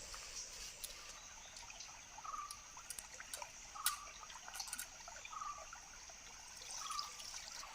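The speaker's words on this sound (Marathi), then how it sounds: "तर याला असे धुवून घेऊया आणि जरा पाण्यामध्ये भिजत ठेवूया थोडा वेळ" Dry fish pieces are washed in water, with quiet trickling, dripping and soft splashes at close range in uneven spurts.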